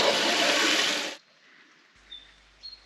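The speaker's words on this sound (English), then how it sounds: "And we have running water." Water rushes strongly from a newly connected pipe for about a second, then cuts off abruptly, leaving near quiet with a few faint knocks and squeaks.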